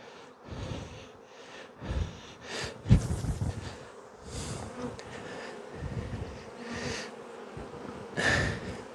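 Honey bees buzz in bursts around hive boxes being shaken down, a close insect drone rising and falling with sharp knocks and thumps of the frames and boxes, and breathing heard nearby.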